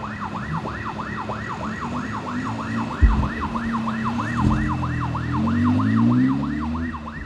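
An ambulance siren wails continuously on a narrow historic street in João Pessoa, a fast rising-and-falling yelp over steady traffic rumble, moderately distant and without speech.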